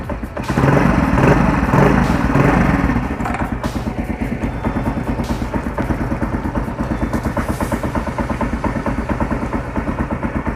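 A motorcycle fitted with a side-gap spark plug revs hard close by, then settles into a steady, pulsing idle that runs loud and rhythmic to the end.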